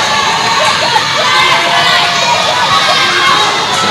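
Netball match crowd between Saint Lucia and Grenada, a dense, loud, continuous wall of shouting and cheering voices with high-pitched calls rising throughout, steady and close.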